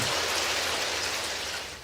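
Heavy rain pouring down outside, a dense, continuous hiss of drops that stays loud and steady throughout, fading only slightly at the end, with no voices.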